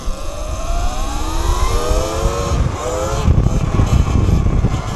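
An E-Ride Pro electric motorbike fitted with an X9000 controller, ridden in wheelie/daily driver mode, gives a rising electric motor whine that climbs in pitch under steady wind and road rumble, close and loud throughout.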